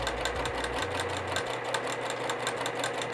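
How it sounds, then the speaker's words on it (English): A sewing machine stitches a long quilt back in a steady, fast, rhythmic whir, moderately quiet and close, with no talking. "And I'm gonna go nice and slow and steady and sew all the way down until I finish all 84 inches of this quilt back."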